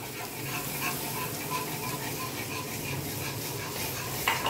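Milk poured into a hot pan of baked pasta sauce while it is stirred, a steady broad sizzle with soft stirring clatter and one brief clink near the end, close and even, no talking.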